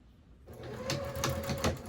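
A sewing machine starts up and runs a quarter-inch seam around a fabric bin, a quick whirring burst of stitching with a few pulsing surges, close and alone.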